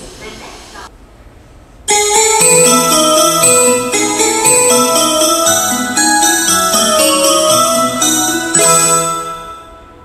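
A bright chiming departure melody plays on a Tokyo Metro Fukutoshin Line station platform, loud and melodic for several seconds, after a brief announcement voice and a short pause.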